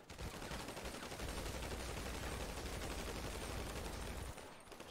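A firing squad lets loose in a long continuous volley of gunfire, loud and dense, with a heavy low rumble that cuts off near the end.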